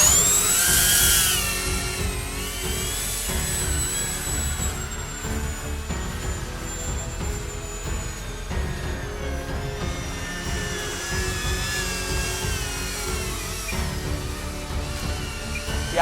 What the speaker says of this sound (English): Yeah, this jet flies pretty fast.